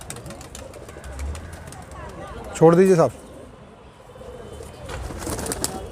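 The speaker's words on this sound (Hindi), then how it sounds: "बहुत ही अच्छे बाजरे कबूतर हैं माशाल्लाह" Bajra pigeons, Indian high flyers from Tonk, are handled and shown close up, with soft rustling and handling noise, a brief loud burst near the middle, and someone speaking.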